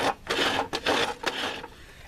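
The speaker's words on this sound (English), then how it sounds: "So the fence extension slides in this channel," Fence extension on a years-old jobsite table saw dragging roughly through its dirty, sawdust-clogged channel, a close gritty scraping rasp in several pushes with brief stops between, no voices.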